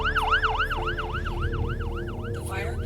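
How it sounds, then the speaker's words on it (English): An ambulance siren sweeps up and down in a steady wailing cycle as it passes during the filming of a scene for the horror film Terrifier, loud and continuous with traffic rumble underneath. "they were just filming and one happened to go by"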